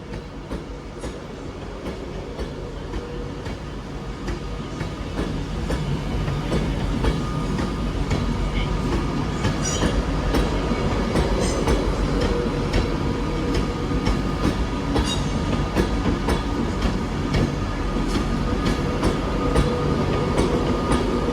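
Class 390 train, formerly run by Virgin Trains, at Manchester Piccadilly, rumbling steadily with the rhythmic clack of wheels over rail joints, growing louder after the opening seconds and staying close and continuous, with no talk.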